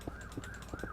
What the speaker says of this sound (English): there's fucking sirens going on outside my house